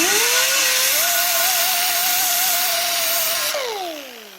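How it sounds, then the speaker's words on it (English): A pneumatic air tool with an abrasive pad whines steadily and loudly while scouring an aluminum tire rim, its pitch wavering slightly under load before winding down as the tool is released. "I'm going to use my air tool, but you could do this just by using sandpaper."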